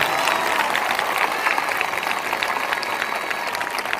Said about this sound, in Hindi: जो मुस्कुराकर धन्यवाद कर रहे हैं तालियों के साथ